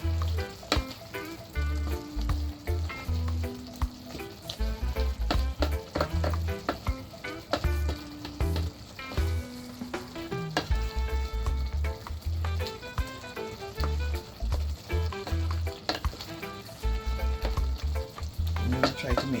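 Tomato sauce cooking in a pan for lasagna, a steady soft sizzle and bubbling under a loud rhythmic music track that runs throughout, with occasional stirring clatter.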